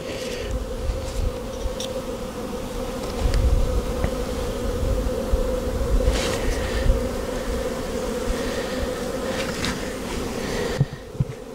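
A dense, steady hum of many honeybees buzzing close by in a hive, continuous throughout, with occasional louder individual buzzes passing near.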